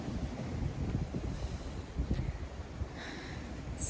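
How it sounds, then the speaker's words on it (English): Wind gusts across a Hawaii beach, buffeting the microphone with a low, steady rumble and rushing noise, loud and close, with no talk. "It's so windy."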